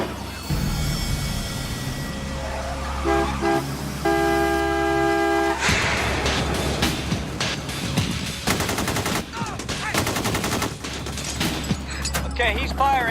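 Rapid bursts of gunfire in a film street shootout, repeated sharp shots and a volley over car horns and street commotion, dense and loud throughout.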